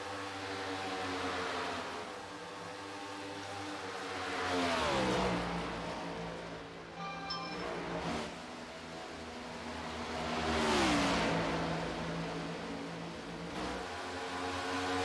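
Race cars at Pocono roar past one after another, each engine rising as it approaches and then dropping in pitch as it pulls away. A brief high whine comes between the two loud passes.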